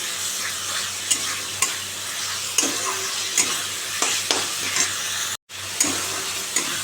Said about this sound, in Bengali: এবার এটাকে ভালো করে কষাবো একদম তেল বেরিয়ে যাবে